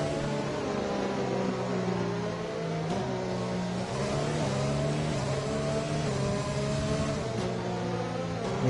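Racing cars from an F1 video game hum steadily at moderate speed while queued behind the safety car, engine tones layered and gently rising and falling, with no voices.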